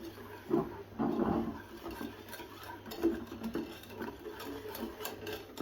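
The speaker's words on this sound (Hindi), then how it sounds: "हम कोको पाउडर ऐड करेंगे और इसको विस्क की मदद से अच्छी तरह मिक्स करेंगे" A whisk stirring cocoa powder into a thickening chocolate ice cream mixture, giving a faint, rhythmic scraping and tapping against the pan that comes in soft irregular bursts.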